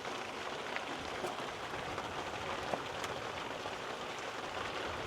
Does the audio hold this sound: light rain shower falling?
yes